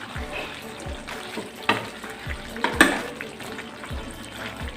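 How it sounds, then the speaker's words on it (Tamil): Chicken gravy is stirred in a pan after pepper powder goes in: a soft bubbling sizzle runs underneath while a few sharper scrapes and knocks of the spoon stand out, close by and with no voices. "பெப்பர் தூள் போட்டு நல்லா கிளறி விட்டுக்கலாங்க"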